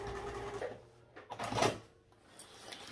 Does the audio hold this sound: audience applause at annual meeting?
no